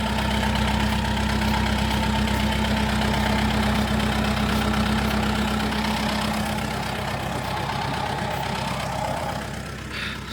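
A farm tractor's engine idles steadily and loudly up close, a constant low rumble with a mid-range knock running without a break.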